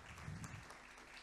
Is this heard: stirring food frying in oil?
no